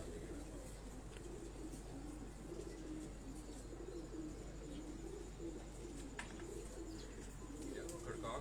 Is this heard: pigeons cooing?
yes